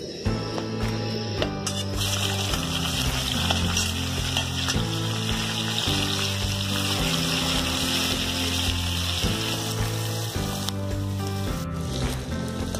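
Chopped onions frying in a kadhai with dried red chillies, cinnamon and cumin for chicken curry, a steady sizzling hiss running throughout beneath loud background music.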